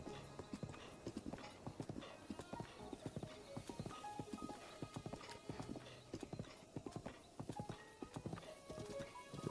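Horse hooves galloping in the game Zelda: Breath of the Wild, a fast, steady clip-clop rhythm of hoofbeats running throughout, loud and close with light background game ambience and no speech.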